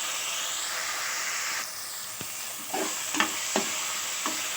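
Small chopped tomatoes fry with onions in a pan for a Telugu drumstick dal, giving a steady sizzle with several sharp stirring scrapes and clicks toward the end.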